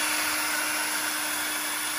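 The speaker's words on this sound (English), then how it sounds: "I use a longer drill bit so that I can continue eyeballing the height of the bit as it goes into the wing" A drill with a long bit bores into a model airplane wing, giving a steady, close, whining hiss with a constant high tone and no pauses or talk.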